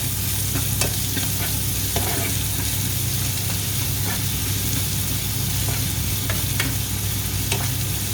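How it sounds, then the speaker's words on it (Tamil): Crushed ginger and garlic frying with onions in a pan, a constant loud sizzle with scattered scraping stirs as the mixture is sautéed, no voices over it. "போட்டு வதக்கி அதுஇந்த மனம் போகும் மட்டும் வதக்கணும்."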